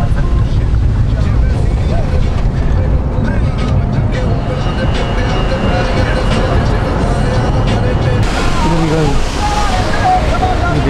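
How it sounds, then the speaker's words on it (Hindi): A waterfall near a mountain road in Chamba, Himachal Pradesh, pours with a loud, steady, close roar of rushing water that continues without a break. "इस साल का सबसे बेहतरीन झरना"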